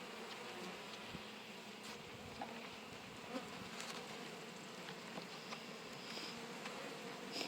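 Honey bees buzzing at an open hive while a smaller colony is being combined: a dense, steady hum of many bees, close and continuous, with no talking.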